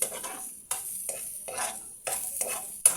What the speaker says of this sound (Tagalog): Konting mantika lang para panggisa ng mga luya at sibuyas at bawang.